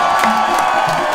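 A crowd cheers and whoops at an outdoor dance battle in a park, a brief, loud burst of shouting with some scattered clapping.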